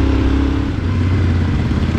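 A loud, close motorcycle engine drones and revs steadily, with rattling clatter underneath.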